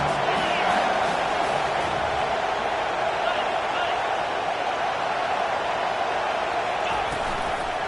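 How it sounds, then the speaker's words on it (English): A packed stadium crowd roars steadily at a college football video game against Georgia, a dense continuous cheer with occasional whoops under a commentator calling the play. "this crowd is tearing the lid off this place"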